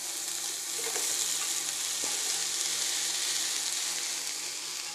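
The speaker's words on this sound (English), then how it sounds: "So I'm going to go ahead and add in the Brussels sprouts at this point." Leeks and Brussels sprouts frying in a pan give off a steady, close sizzle with faint stirring clicks, and no one talks.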